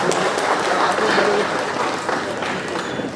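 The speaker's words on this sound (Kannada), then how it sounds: "ನಿಮ್ಮ ಚಪ್ಪಾಳೆ ಕೇಳಿ ಮಂಗಳೂರು ಉಡುಪಿ ಹಾರ್ಬರ್ ನಡುಗಬೇಕು" Audience applause at a film launch (muhurtha) ceremony in the Mangaluru–Udupi area, a steady, dense wash of clapping from a crowd that holds evenly loud throughout.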